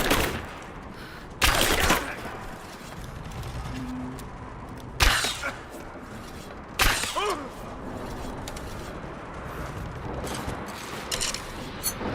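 Gunfire during a firefight in the video game Rise of the Tomb Raider: several loud, close bursts of shots separated by a few seconds, over a steady rumbling ambience with scattered debris and mechanical clatter.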